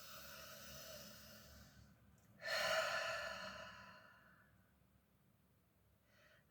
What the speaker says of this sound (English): Close your eyes, take a deep breath.